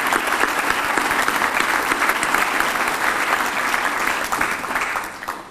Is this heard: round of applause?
yes